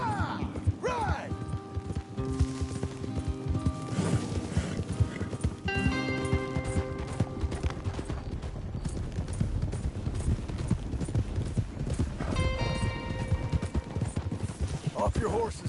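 Horses ridden in Red Dead Redemption 2 with steady clip-clop hooves throughout, mixed with occasional whinnies and game ambience, and voices talking over parts of it.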